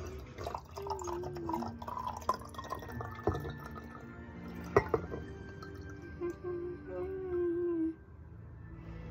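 Water trickling and pouring into a cup, with drips and a rising filling tone over several seconds, fairly close and moderately loud, no talk.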